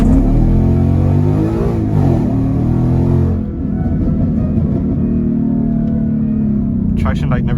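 Ford Mustang GT engine with a Roush intake revs hard with a loud, throaty exhaust roar, then drops back to a rumbling idle with crackling pops toward the end, heard close with people talking.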